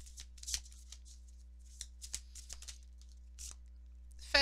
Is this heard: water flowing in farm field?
no